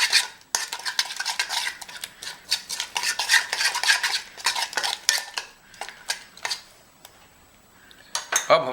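A metal spoon stirs marinated mutton with garam masala in a pot, giving repeated clinking scrapes and clanks at a brisk, uneven rhythm, close and fairly loud, with a short pause near the start and another before the end.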